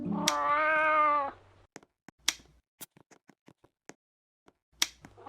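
A fat cat gives one long, loud meow up close, then a string of sharp clicks and taps follows with brief silences between them, ending in another short burst.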